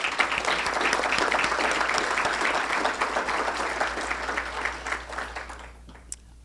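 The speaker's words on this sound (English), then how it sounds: "I think they all deserve a major round of applause." Guests at a scholarship awards dinner give a loud round of applause, dense close clapping sustained for about five seconds before tapering off to a few final claps.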